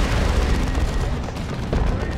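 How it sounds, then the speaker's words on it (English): An Assault Cannon unloads in Dawn of War II: Retribution: a dense, continuous barrage of rapid heavy gunfire and booms rolls on without pause, with a voice faintly present beneath the battle noise. "We have that Assault Cannon just unloading."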